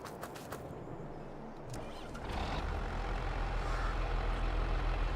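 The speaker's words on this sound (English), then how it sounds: "These old tractor sounds, I know, I like the old John Deeres." An old John Deere tractor engine in Farming Simulator 22 runs with a low, steady diesel rumble that swells louder partway through, with no speech.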